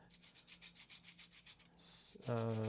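Steady back-and-forth rasping of an artist's pencil being sharpened on sandpaper, about a dozen even strokes, close up, followed by a brief hiss and a short tonal note.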